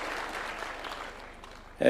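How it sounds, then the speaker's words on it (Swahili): An audience applauds senators, MPs and county representatives at a UDA National Governing Council gathering hosted by President Ruto. The dense crowd clapping is brief and eases slightly before a louder burst at the very end. "Tuwapigie makofi."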